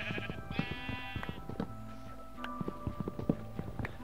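Sheep bleat in the video game Minecraft, with a couple of clear bleats near the start followed by scattered soft thumps and steps against a steady game background, no talk.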